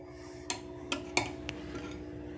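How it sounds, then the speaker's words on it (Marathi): A spoon clinks against a jar while stirring kanji drink ingredients, giving four or five sharp, light taps spaced under a second apart over a quiet, steady background hum. "एका चमच्याने आपण आता हे सर्व हलवून घ्यायचं आहे"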